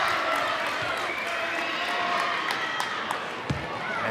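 Loud, sustained crowd roar fills a high school boys' basketball gym, with faint sneaker and ball thumps scattered underneath throughout.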